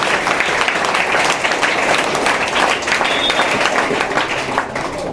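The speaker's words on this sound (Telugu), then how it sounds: "గట్టిగా చప్పట్లు కొట్టి అభినందనలు తెలియజేయాలని కోరుతున్నా" A crowd at a state event on hostel facilities claps loudly and steadily for the whole stretch, a dense, even wash of applause with no break.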